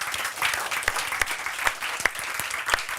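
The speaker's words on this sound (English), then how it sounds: "And a big applaud for the panel." Conference audience applauds a panel at an innovation event, a moderate wash of clapping with a few sharp, distinct claps standing out near the microphone at irregular intervals.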